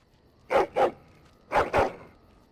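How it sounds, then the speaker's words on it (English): A dog in the Dragon Age: Origins video game barks fiercely: two pairs of loud, sharp barks, each pair quick and close together, separated by a short pause over a quiet background. "He barks fiercely and lunges."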